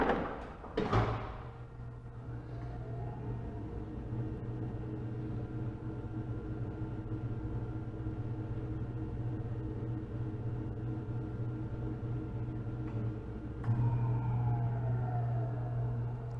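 A wheel balancer's hood closes with a sharp thud, then the mounted wheel spins up into a steady mechanical hum for many seconds before a second clunk and a brief change in the whirring, with no talking.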